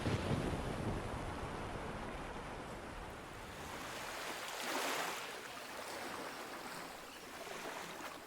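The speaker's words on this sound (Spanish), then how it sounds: "Solamente la tempestad seguía azotando los vientos y las olas." Storm wind roars with crashing sea waves, a loud broad rushing swell that surges and eases, peaking midway, with no voices.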